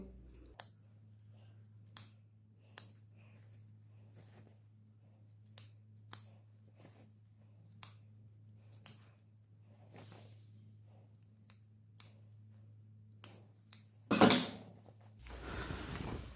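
Scissors snip notches into the fabric of a trench-style half coat, about a dozen sharp, isolated cuts spaced irregularly over a low steady hum, ending in a louder rustle of cloth.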